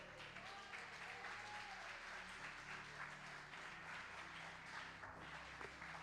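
A church congregation applauds in praise, a continuous, fairly distant and faint patter of clapping over a low steady hum from the room, lasting about six seconds.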